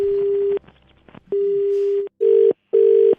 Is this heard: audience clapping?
no